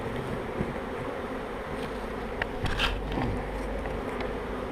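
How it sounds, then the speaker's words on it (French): Honeybees swarm out of the top of a hive just closed after a spring inspection, making a steady, dense buzz close by with a few louder passes near the microphone and light wind. "il y a quand même beaucoup d'abeilles qui sont sorties par le haut de la ruche"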